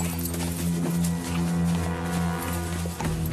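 A horse's hooves clip-clop in a medieval-style dramatized scene, a steady clopping over a sustained tonal background, moderately loud with no speech.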